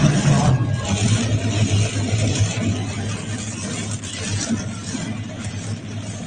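A modified three-engine tractor pulls a sled at an outdoor pulling event, its engines roaring loud and steady with a low drone while a voice talks over it.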